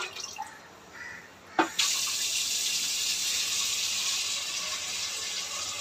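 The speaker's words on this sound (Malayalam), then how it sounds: "അതിലോട്ട് ഇനിയും വെള്ളം ഒഴിച്ചിട്ട്" Tap water gushes into a large washed uruli vessel for soaking lemons, starting suddenly after a quiet moment with a thud, then a strong steady stream fills the pot without pause.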